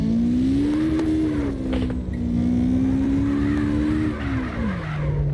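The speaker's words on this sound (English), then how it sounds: "We're warming up, just warming up the tires." A drift car in the CarX Drift Racing Online video game holds a steady, loud engine drone while warming its tires, the pitch rising and wavering before dropping near the end, with faint tire scrubbing underneath.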